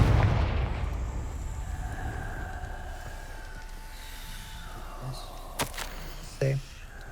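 A Confringo blasting spell goes off in the Hogwarts Legacy video game as a loud explosive burst right at the start. A rumbling tail slowly fades beneath a few small later pops.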